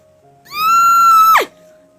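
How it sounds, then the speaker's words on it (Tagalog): A single high-pitched scream rings out from inside a wooden wardrobe, loud and sustained for about a second before dropping off sharply. "may biglang narinig na matinis na sigaw mula sa loob nito"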